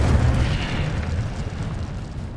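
A fire spell blasts in a fantasy wizarding video game, a loud, dense roaring burst that fills the whole clip and fades slightly toward the end, heard alone.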